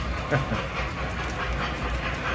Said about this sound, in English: There's that beautiful 20th Century Limited, New York Central.